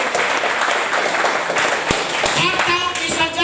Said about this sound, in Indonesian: Wah, tepuk tangan dulu ya.